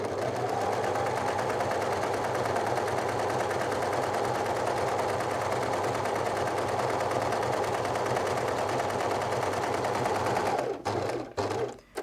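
An overlocker serges a seam on a sweatshirt dress, running as a close, continuous rapid mechanical chatter for about ten seconds before stopping in short, halting bursts.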